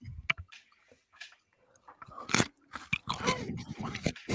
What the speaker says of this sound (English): I mean, it's very crunchy, but I really thought I'd be able to like chew into it